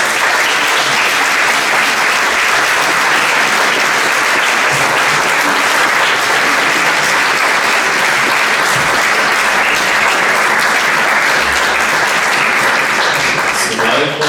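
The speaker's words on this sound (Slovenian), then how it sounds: "aplavz za vse skupaj prosim" Loud, sustained audience applause at an annual concert of a women's choir in a cultural hall, dense continuous clapping filling the room with little variation, with faint crowd voices mixed in.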